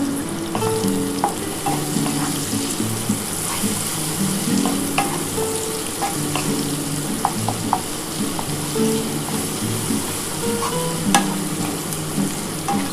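Onions and whole garam masala fry steadily in a pan, a continuous close sizzle broken by scattered ticks and clinks of stirring throughout.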